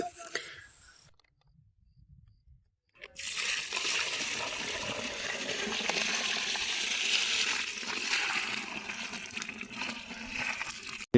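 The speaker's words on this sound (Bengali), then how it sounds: "সব উপকরণ মিশিয়ে এবার ড্রামে পানি দিতে হবে" Water gushes steadily into a drum holding a homemade fish-food mix of blended ingredients, a continuous close splashing pour after a brief silent pause.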